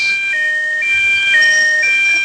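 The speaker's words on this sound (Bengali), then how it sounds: "কি অ্যাম্বুলেন্স?" A wailing ambulance siren in the video game GTA blares loud and close, its tones sliding up and down continuously with no talk over it.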